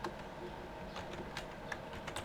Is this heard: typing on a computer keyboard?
yes